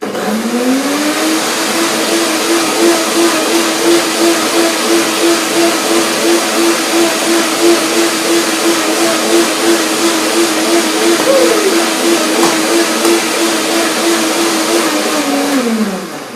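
A blender blending coconut cream runs steadily and loudly at a constant motor pitch for about fifteen seconds, then spins down and stops.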